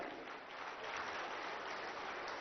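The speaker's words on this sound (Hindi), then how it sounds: "उनके लिए भी एक बार आप सब लोग ताली बजाएं" Steady crowd applause, a dense continuous patter of many hands clapping, heard from a distance and holding even throughout.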